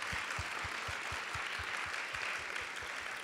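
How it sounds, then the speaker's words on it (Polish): A public talk event greets introduced musicians with warm audience applause, a dense even patter of clapping that holds steady throughout, with faint regular low thumps beneath it. "Gorące brawa, proszę Państwa."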